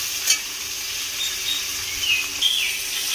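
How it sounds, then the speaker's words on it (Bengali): Green chillies and ginger paste frying in a pan, a steady bright sizzle with a few soft stirring scrapes, close and continuous with no voices. "দিয়ে আমি এবারে একটু ভালো করে কাঁচা লঙ্কা আর আদাটাকে একটু ভেজে নেব"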